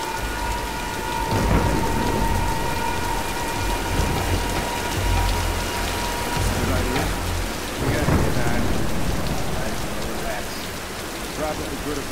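Thunderstorm in Tomb Raider: Definitive Edition, with steady heavy rain pattering on surfaces and low rolling thunder rumbles building and swelling throughout, loud and continuous with no voices.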